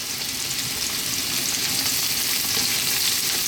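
Onion, ginger and garlic sizzle steadily in a hot pan while being stirred for mushroom fried rice, a continuous dense frying hiss with no talking.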